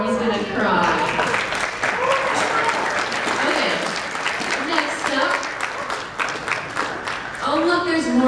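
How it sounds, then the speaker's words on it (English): An audience applauds steadily at an anime idol singing event, a dense sustained wash of clapping heard throughout while people talk and call out over it. "clap for him"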